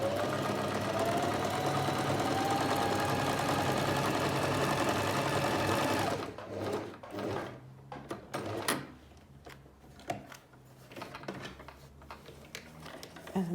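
Alfa Practik 9 sewing machine running steadily and loudly for about six seconds under pedal speed control, then falling to scattered softer clicks and mechanical knocks.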